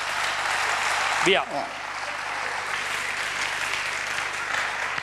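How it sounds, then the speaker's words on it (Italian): An audience applauds to encourage Marco at a live show, a steady broadband clapping that runs on for several seconds, with an announcer's voice briefly cutting through near the start. "Facciamo un applauso di incoraggiamento a Marco, forza."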